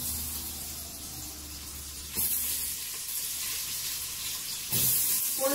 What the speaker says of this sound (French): Quand la matière grasse est bien chaude, j'y mets mon oignon.